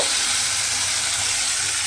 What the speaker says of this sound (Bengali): দিয়ে এবার আলুর সঙ্গে মশলাটা খুব ভালোভাবে একটু কষিয়ে নিতে হবে